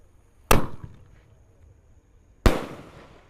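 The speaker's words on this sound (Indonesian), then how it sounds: "di sini ada Raja Wali Jumbo guys. Kita nyalakan malam ini." A Raja Wali Jumbo firework goes off at night during Ramadan in two sharp, loud bangs about two seconds apart, each one trailing off into a brief fading rumble.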